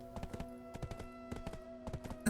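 Horse hooves clip-clop in a steady trotting rhythm in the online game Black Desert Online, mid-level and fairly near, over a sustained musical drone with one sharper accent near the end.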